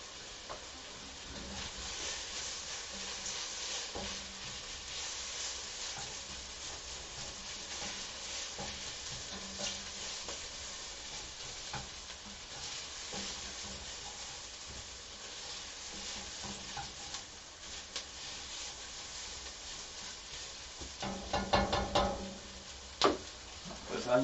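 Onions frying in a pan during meal prep of sausage, Swiss chard and kielbasa with vegetables, a steady soft sizzle running throughout with occasional stirring scrapes and a few louder clatters near the end.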